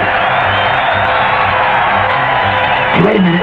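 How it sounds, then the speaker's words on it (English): A stadium crowd roaring and cheering through a TV fight broadcast, a dense, steady wash of voices with a low hum under it and a brief shout near the end. "The crowd's going crazy here at the stadium."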